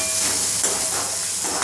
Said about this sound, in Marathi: लसूण आणि कांदा तेलात परतवल्यानंतर ना त्यात बारीक चिरलेली कोथिंबीर टाकायची।